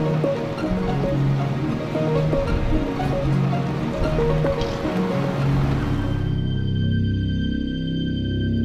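The research ship Melville heads out to sea from Punta Arenas, a steady wash of water and hull noise with a low rumble, close and constant, before the surf fades out into a quieter low hum.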